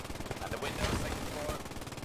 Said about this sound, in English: they're letting some MG fire down here